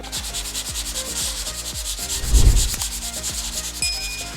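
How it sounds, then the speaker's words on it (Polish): Dried wall filler being sanded with a hand sanding block before painting, a steady back-and-forth scraping rub with a stronger stroke midway, close and alone with no talk. "Jak zaprawki wyschną, to biorę sobie kostkę i szlifuję."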